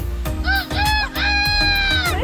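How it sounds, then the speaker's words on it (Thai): Red junglefowl calls out in a campsite setting at Khlong Makhuea, Nakhon Nayok, giving loud, close, rapid crowing notes with rising and falling pitch over a low background rumble. "มันจะเป็นไก่ป่า"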